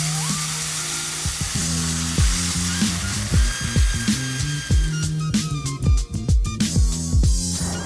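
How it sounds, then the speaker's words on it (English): Vietnamese banh xeo pancakes sizzle steadily in a hot pan, a close, bright frying hiss running throughout, punctuated by repeated sharp clinks and taps of a utensil against the pan. "You can hear that sizzling happening."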